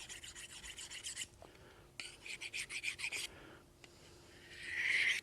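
A knife blade is drawn across a sharpening stone to grind a smooth, even bevel along its full length, heard as a series of close rasping strokes with short pauses between them.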